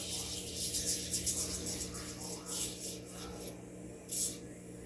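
Soft, uneven scratching and rubbing strokes, close by, in short bursts over a low steady hum, as press-on gel nail tips are scratched to etch them.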